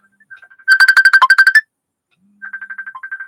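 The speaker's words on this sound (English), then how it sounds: "Isn't it crazy when people just randomly call you out of the blue?" Phone ringtone from an incoming call, two bursts of a bright repeating electronic melody separated by a short silence, loud and close with no voices.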